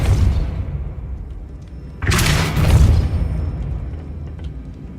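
Depulso force spell fired in Hogwarts Legacy, a sudden loud whooshing blast that swells for about a second and then trails off into a low rumble over a dull background.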